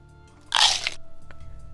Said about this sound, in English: It's like a crunch between the cartilage.